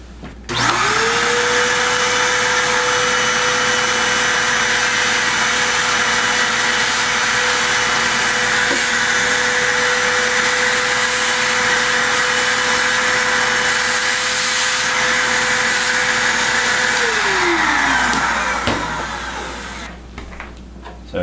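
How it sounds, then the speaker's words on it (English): A vacuum cleaner runs steadily while cleaning up a workshop during an arcade cabinet control panel build, its motor whine spinning up quickly, holding a loud even drone for about seventeen seconds, then winding down and stopping. "I'm gonna get my vacuum right quick, just clean this up a little."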